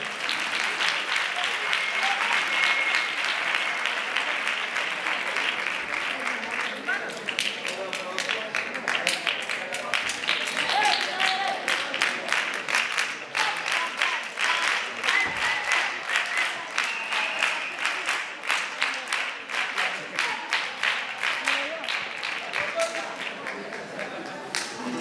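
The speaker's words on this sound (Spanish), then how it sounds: "Un aplauso para ellos." A theater audience claps loudly for a chirigota troupe at a Carnival of Cádiz semifinal, dense and sustained applause throughout, with scattered cheers and voices rising from the crowd.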